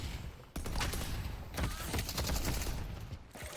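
Automated turret firing in the hero shooter Deadlock, a dense, continuous burst of rapid gunfire running for several seconds at close range with busy game sound effects layered underneath.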